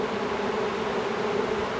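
Honeybee swarm being recovered twelve feet up in a tree, giving a dense continuous buzzing drone, close and steady throughout with no voices.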